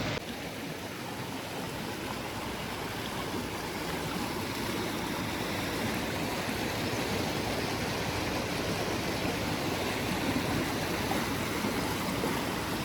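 A clear river rushing through Sangti Valley, a loud, steady, close wash of flowing water that fills the whole stretch with no voices.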